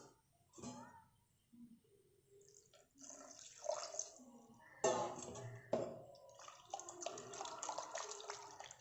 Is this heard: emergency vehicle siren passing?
no